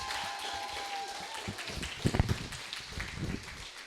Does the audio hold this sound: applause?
yes